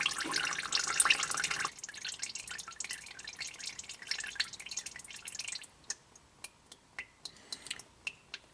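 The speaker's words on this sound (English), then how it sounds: "Okay, so there's just the steady drip." CVT fluid from a 2018 Honda Accord trickles and splashes faintly at first, then slows into distinct, evenly spaced drips falling one after another, close by and quiet.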